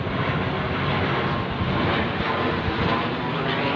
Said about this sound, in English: And the plane is going over. It's only a little plane. It's got propellers on it.